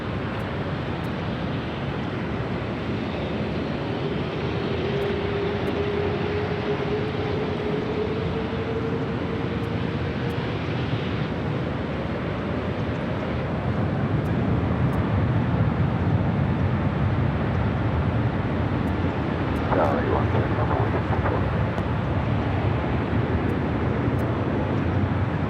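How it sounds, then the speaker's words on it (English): An Emirates Airbus A380 takes off at Los Angeles International Airport. A steady, broad jet roar swells louder about halfway through, with a faint whining tone drifting down early on. It is heard from some distance, with no voices. "I'm going to stay with the Emirates A380 Super. It's cleared for takeoff."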